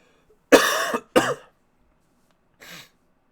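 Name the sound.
cough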